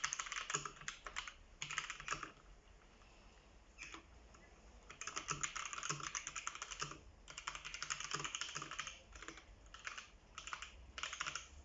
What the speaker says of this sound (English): So I guess we'll give it a quick type test.